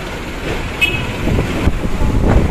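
A tour bus sounds a brief, loud musical telolet horn on an Indonesian road, amid heavy engine rumble and passing traffic noise.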